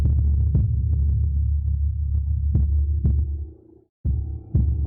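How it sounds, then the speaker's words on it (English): A slow, steady heartbeat sound effect from a Syrinscape fantasy ambience throbs low and deep, regular thuds layered over a soft rumbling drone, dropping away to near silence for a moment before resuming. "Also has a heartbeat in it."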